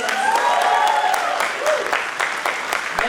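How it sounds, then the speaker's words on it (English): A graduation day audience at a college applauds, with dense, continuous clapping that swells and eases slightly while a voice carries faintly over it. "A huge round of applause to each one of you to make that a grand success."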